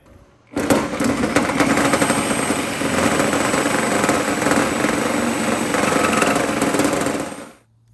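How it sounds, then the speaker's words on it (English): Power tool cutting along a rubber front upper suspension bushing on a Ford Ranger, Everest or BT50 arm, a loud continuous buzzing whine lasting about seven seconds, close up, starting and stopping abruptly with no talk. "I'm going to put another cut along that bushing down through there."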